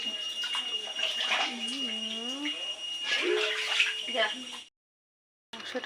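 Tap water runs steadily while meat is rinsed, a close continuous splashing hiss under people talking that stops abruptly near the end.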